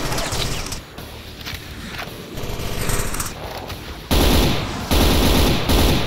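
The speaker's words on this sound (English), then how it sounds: "I've got the auto shotgun" An auto shotgun in Brutal Doom fires loud, rapid, heavy blasts in dense bursts among other combat noise, with the onslaught intensifying in the final seconds; no one speaks.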